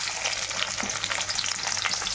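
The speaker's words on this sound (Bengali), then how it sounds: "দেখো তেলটার মধ্যে এখন পেঁয়াজ ছেড়ে দিচ্ছি" Onions dropped into hot oil in a home kitchen sizzle loudly and evenly, a close, continuous crackling hiss with no speech.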